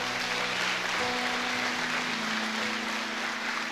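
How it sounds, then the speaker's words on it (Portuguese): A church congregation claps together in a sustained wash of applause, steady and fairly loud throughout, with a faint low musical tone held underneath. "Dê um aplauso a Jesus."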